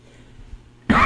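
A single sharp, loud cough bursts out near the end after a quiet stretch. It is close up and stands alone with no speech.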